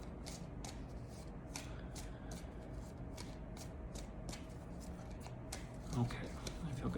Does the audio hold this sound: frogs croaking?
no